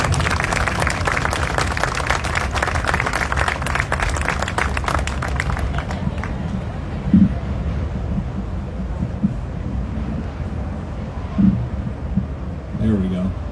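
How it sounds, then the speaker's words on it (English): An audience applauds Coast Guard members at an outdoor anniversary gathering, a loud stretch of clapping for the first half that dies away, leaving wind rumble and occasional talk. "Another round of applause,"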